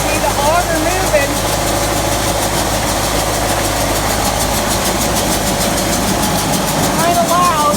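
An engine powering a grain auger during the corn harvest, running loud and steady with a continuous mechanical drone and vibration, while people talk over it.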